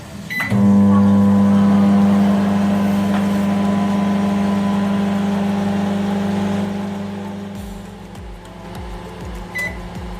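An IFB microwave oven grilling tandoori chicken hums loudly and steadily with a strong electrical drone, then the tone drops and fades near the end, ending with a couple of soft clicks; no one talks.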